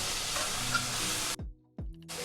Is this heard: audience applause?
no